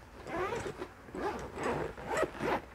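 A small zipper on a camera backpack is pulled open and shut in several quick, close-up rasping strokes with short pauses between them.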